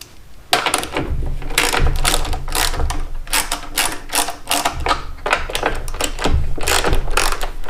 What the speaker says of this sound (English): I'm gonna have to loosen those bolts back up.